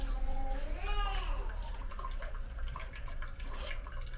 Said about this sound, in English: strain it like this with a nice strainer